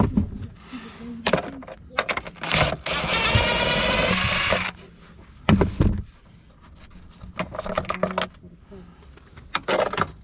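An impact gun works on bolts of a BMW E46 engine, giving one sustained close burst of rattling hammering among scattered clanks, knocks and handling noises in a workshop.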